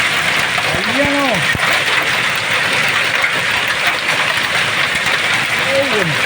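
Hail and icy rain pelting down hard and continuously, a dense close rattle over surfaces, with a voice briefly calling out twice over the downpour.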